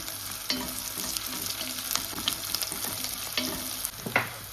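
A spoon scrapes and stirs fenugreek seeds into fish curry in a sizzling pan, irregular clinks and scrapes over soft frying noise, no voices.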